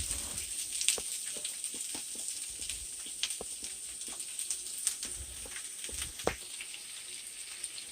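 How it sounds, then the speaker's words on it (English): Onions sautéing in a pan on the way to a bacon-wrapped cheesesteak meatloaf, giving a soft, steady crackling sizzle like light rain, with small pops scattered through it. "we want to saute these until they're nice and glistening here"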